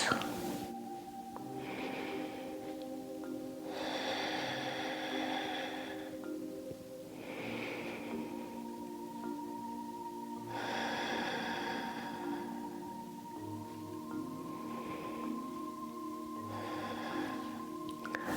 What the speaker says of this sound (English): Let's take 3 more breaths.